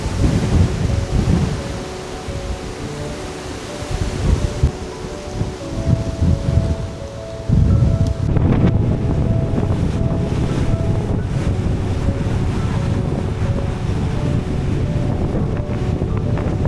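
A strong gust of wind roars across the microphone outdoors during a motorcycle trip in Andalusia: loud, continuous buffeting rumble that surges heavily and stays steady to the end.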